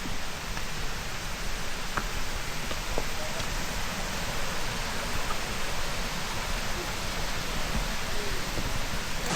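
Heavy rain at a waterfall: dense, constant hiss of falling water and drops covering the whole stretch at an even, fairly loud level, with faint scattered taps.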